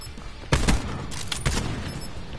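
Gunfire in a PS4 shooter game comes as two loud, close bursts of rapid shots over constant background game noise.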